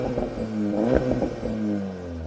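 A Volkswagen Golf engine with an Akrapovic exhaust revs up sharply from idle and settles back against a rev limiter, loud and close, with a deep raspy sports exhaust note.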